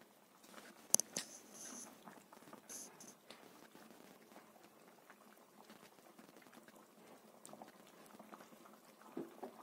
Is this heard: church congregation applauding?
no